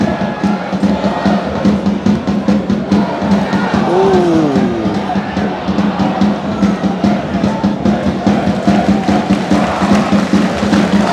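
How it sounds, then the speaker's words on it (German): A large crowd of VfR Aalen football fans at a Regionalliga Südwest derby against Stuttgarter Kickers roars continuously in a stadium, with dense rhythmic clapping and cheering forming a loud, sustained wall of sound; a brief exclamation cuts through. "Applaus von den Aalener Fans"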